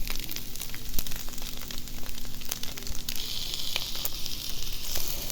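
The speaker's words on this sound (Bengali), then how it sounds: "তো দেখুন আমার প্রায় হয়ে গেছে ভাজা, আর একটু হলেই কমপ্লিট হয়ে যাবে।" Food nearly finished frying in a pan gives a steady, fairly loud hiss and crackle with occasional sharp pops and faint clicks, with no voices.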